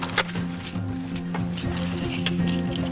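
Keys jingle and clink together close by, with a few brighter metallic rattles over a steady low hum.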